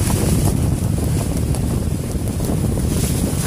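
A small boat moves on the sea in blustery wind, with a steady roar of wind buffeting the microphone over the low rumble of water and hull, constant and close with no one speaking.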